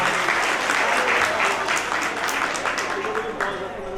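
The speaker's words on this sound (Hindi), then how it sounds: "एक बार ताली बजा के स्वागत करते हैं" A seated audience at an Arya youth council foundation day gathering breaks into sustained applause of dense, even clapping that stays loud throughout and eases slightly toward the end.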